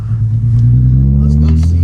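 Pickup truck with an open differential pulling away, a loud, steady low engine rumble that rises slightly in pitch as it accelerates nearby.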